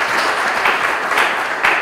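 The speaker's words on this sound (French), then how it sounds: "Merci beaucoup d'applaudir Ben et Mouipataï." Audience applause at a gathering in Lubumbashi, a dense steady wash of many hands clapping close and loud, with a slight swell near the end.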